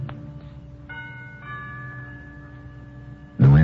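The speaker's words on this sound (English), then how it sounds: "I lean on the bell." A doorbell rings with a sustained, clear chiming tone that hangs for a few seconds before a sudden loud burst of noise cuts in.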